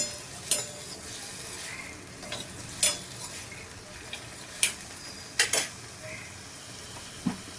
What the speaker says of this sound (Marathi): आता हा टमाटर येतो टमाटर टाकते त्याच्यात आणि छान मिक्स करून घ्यायचं